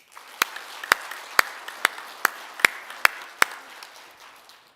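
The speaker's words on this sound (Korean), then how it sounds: "다시 한번 박수 해주세요." Sparse clapping from a church gathering after a choir is thanked: eight or so distinct, evenly spaced claps ringing in a reverberant room, loud and separate rather than a full applause, over a faint hall hum.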